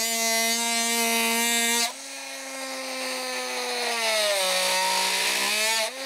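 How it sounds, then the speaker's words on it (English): A Milwaukee M12 cordless oscillating multi-tool plunge cuts straight into a piece of wood, giving a loud, continuous high-pitched buzzing whine whose pitch dips and shifts as the blade bites, with a brief drop midway. "Oftentimes you need to just plunge straight into a piece of wood."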